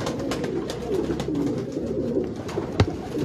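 Teddy pigeons with purple feet coo softly in a low, steady murmur, with a brief louder thump near the end.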